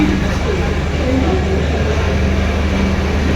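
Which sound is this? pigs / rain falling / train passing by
train passing by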